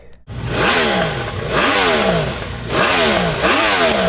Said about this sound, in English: That's the noise of a motorcycle wishing it was indoors.